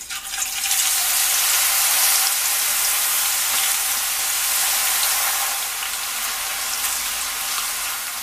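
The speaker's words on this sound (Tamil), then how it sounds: "எல்லாத்தையும் நல்லா கிறிஸ்பாக பொரிய விட்டுட்டு" Banana and potato chips deep-frying in hot oil give a steady, dense sizzle that stays loud and even throughout, with no talking.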